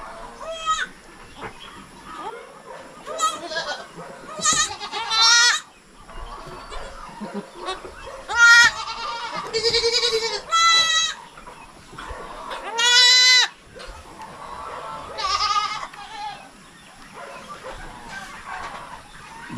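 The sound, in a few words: goats and newborn goat kids bleating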